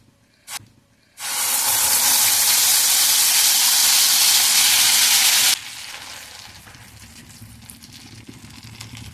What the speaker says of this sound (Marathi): तर या तुपामध्ये आपण आता बारीक केलेला बनाना टाकून घेऊया